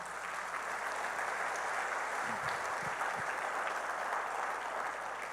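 Steady applause from a church congregation after a prayer, an even wash of many hands clapping at moderate distance, with a few faint low thumps in the middle and no talking.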